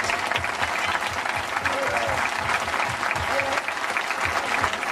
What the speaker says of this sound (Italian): vorrei veramente un grande applauso di tutti voi amici di Dolo per il nostro grande amato Mike Bongiorno